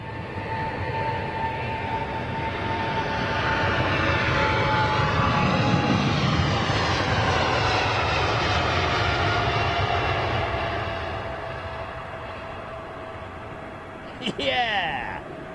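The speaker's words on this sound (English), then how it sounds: "Look how fast he's going, man." Airliner landing at London Heathrow Airport, its engine roar swelling loudly as it passes close overhead, then easing off into a steady whine, with a brief clatter near the end.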